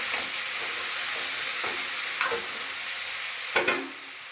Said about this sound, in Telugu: ఆనియన్ అన్నీ వేసేసుకొని కొద్దిగా ఆయిల్ వేసుకొని ఇలా అంతా ఒకసారి కలుపుకొని